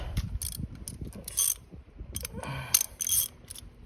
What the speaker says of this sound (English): This is a new socket wrench I got.